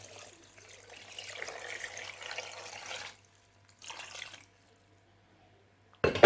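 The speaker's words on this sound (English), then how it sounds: "So I'll be adding water." Water pours into a pot of Nigerian soup for about three seconds, then a second short pour follows after a pause, steady and close with no talking.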